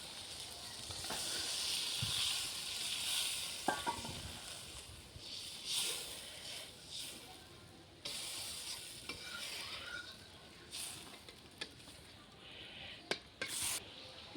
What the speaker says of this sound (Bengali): মশলা তো কষানো হয়ে গেছে এখন দিয়ে দিচ্ছি একটু জল